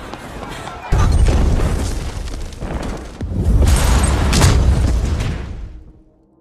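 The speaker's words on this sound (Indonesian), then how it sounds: "terjadi sebuah ledakan yang memakan banyak korban" Huge explosion from a civil-war film scene: loud, dense booming rumble that bursts in suddenly, swells into a second heavy surge of roaring debris and fire, then cuts off.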